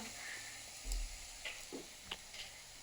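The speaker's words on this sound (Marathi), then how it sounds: "एका बाजूने परतून झाल्यावर परत तेल घालून दुसऱ्या बाजूने असे परतून घ्यायचे" Ragda patties fry in oil in a pan with a quiet, steady sizzle, broken by a few soft taps and a low thud as they are turned.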